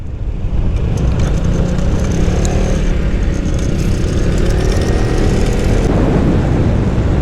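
An Aveta Nova 200 scooter with CVT belt drive runs steadily underway, a continuous loud engine drone mixed with road and wind rumble throughout.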